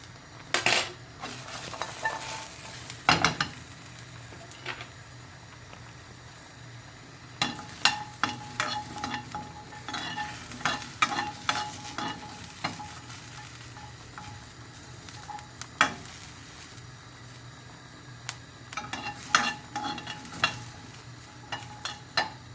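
Shallots, garlic and chili stir-fried in a pan for a Thai bamboo shoot soup, a soft steady sizzle broken by sharp clinks and scrapes of a utensil against the pan, irregular and close, with no talking.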